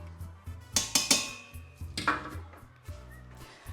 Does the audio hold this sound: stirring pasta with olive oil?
yes